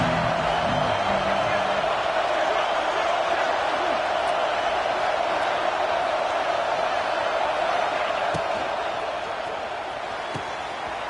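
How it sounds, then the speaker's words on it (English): A stadium crowd roars steadily in College Football 26 during a red-zone defensive stand, a dense continuous wash of cheering under commentary. "And the crowd coming to life here, trying to help this defense down in the red zone."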